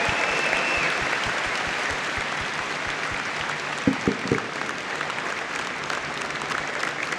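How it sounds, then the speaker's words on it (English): A crowd at a Santa Clara Athletics homecoming event gives a sustained round of applause for a basketball player, steady dense clapping filling the whole stretch with a few sharper claps near the middle. "one more round of applause for J-Dub, Jalen Williams"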